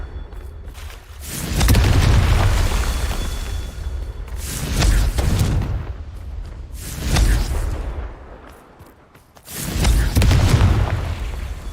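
Several heavy booming blasts from the Confringo blasting spell in Hogwarts Legacy arrive at uneven intervals, each a loud, deep explosion with a rushing tail that fades before the next one hits.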